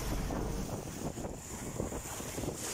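Strong wind roars steadily across open water around a small fishing boat out after tilapia and mullet, buffeting the microphone with a constant, loud, broadband rush and faint wave wash beneath, no voices.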